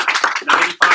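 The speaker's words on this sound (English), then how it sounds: "So please give yourself a round of applause" Audience clapping at a sales team meeting, dense and fairly loud in short bursts with brief dips between, no voices.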